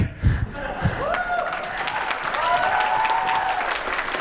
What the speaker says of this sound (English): Keep clapping, I'm still breathing heavy.